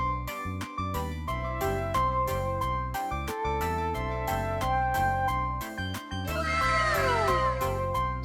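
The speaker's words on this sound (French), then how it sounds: "Chat." A cat meows near the end over a steady, upbeat children's song, the animal call rising and falling briefly above the music.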